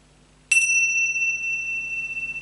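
A single meditation bell is struck once and rings out with a clear, sustained tone that fades slowly over a quiet background.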